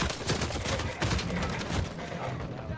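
Rapid gunfire from a team deathmatch shooter video game, bursts of shots running continuously and loud, with a player's voice talking over it.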